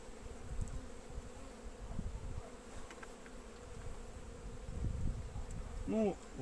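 Honey bees at an open hive in a young nucleus colony hum as a soft, steady drone throughout, with a brief louder buzz near the end as one flies close; no one speaks.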